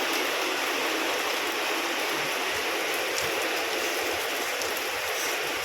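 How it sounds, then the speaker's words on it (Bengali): Rain falls steadily outdoors, a dense and even hiss that fills the whole stretch, loud and close with no voices. "অদ্ভুত মেঘ আর অদ্ভুত বৃষ্টি।"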